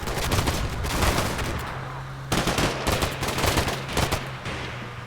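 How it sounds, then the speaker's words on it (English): Gunfire from the Combat Mission Shock Force 2 game during an assault through breached walls of a house, with dense rapid bursts of automatic fire, a brief pause, then more loud volleys. "The moment we make those breaches in the wall, of course there's some incoming fire"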